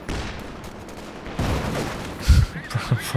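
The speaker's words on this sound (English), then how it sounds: "heavy mortar shells landing on the ISGs again" Heavy mortar shells striking ISG positions in Company of Heroes 2, a few thudding impacts and cracks in quick succession over battle noise, ending in a burst of close heavy blasts, with a voice talking.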